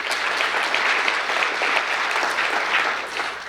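Steady applause from an audience at an awards ceremony, a dense, even wash of many hands clapping at moderate distance, sustained throughout without talk.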